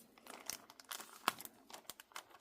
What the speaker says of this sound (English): we're just basically going to cut at an angle on each of the 4 corners